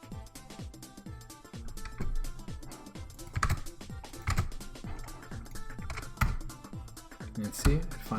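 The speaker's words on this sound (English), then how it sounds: "You see, that's just a lot of typing, right?" Fingers type rapidly on a computer keyboard while working on a Vectrex emulator, with a close clatter of irregular key taps and bursts, under intermittent quiet talk.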